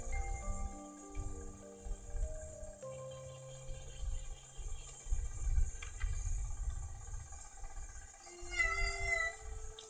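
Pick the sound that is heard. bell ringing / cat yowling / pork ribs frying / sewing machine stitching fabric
cat yowling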